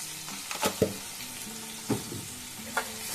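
Fish spices with red chilli powder, cumin and salt being stirred in a pan over a low gas flame, a soft steady sizzle broken by a few sharp scraping stir strokes, close and alone.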